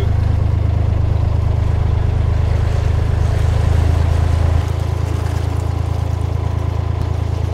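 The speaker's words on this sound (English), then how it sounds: "First boat of the day." A boat's engine chugs steadily as it passes nearby on a canal in winter, a low, continuous rumble that eases slightly partway through, with no voices.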